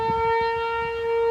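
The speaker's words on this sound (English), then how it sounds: "I don't know how many times the siren goes off," A fire house alarm siren during a test sounds a loud, sustained steady wail with a strong tonal pitch, holding level throughout with no talking.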